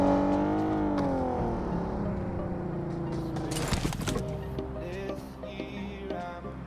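A car drives up in the mobile game Battlegrounds Mobile India, its engine whirring and shifting pitch as it nears, then fading into quieter game sounds and small clicks, with no one talking.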